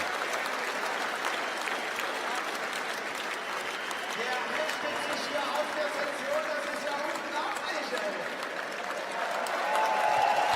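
Crowd at the UCI Trials World Cup in Berlin cheering and applauding steadily throughout, a dense roar of claps and voices that swells louder near the end, with a commentator talking over it.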